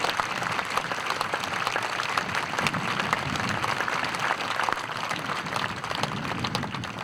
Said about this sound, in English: Let's give the Torrance High School Association student body a round of applause.